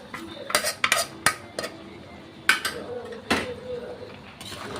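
A utensil mixes egg pasta in a metal pan, giving a series of sharp, close clinks and scrapes in an uneven rhythm over a faint background.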